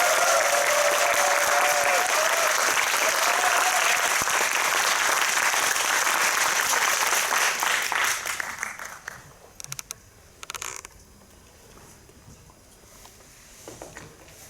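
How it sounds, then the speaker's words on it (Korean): A cinema audience at a CGV Yongsan I'Park Mall screening of Deliver Us From Evil breaks into loud, sustained applause with a voice over it early on, then the clapping fades out into scattered claps and quiet. "큰 박수로 와주십시오"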